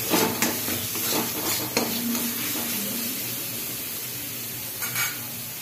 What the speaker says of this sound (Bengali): এটাকে ভালো করে কষাতে হবে যাতে কাঁচা আদা রসুনের কাঁচা গন্ধটা না আসে।